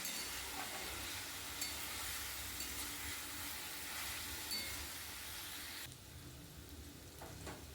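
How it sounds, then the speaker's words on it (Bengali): Mixed vegetables for veg chowmein fry in a pan with a continuous close sizzle and occasional stirring clinks, then drop to a quieter hiss near the end, with no voices. "সবজিগুলো যখন ভাজা হয়ে যাবে একসঙ্গে, তখন লাস্টে ক্যাপসিকামটা দেবো"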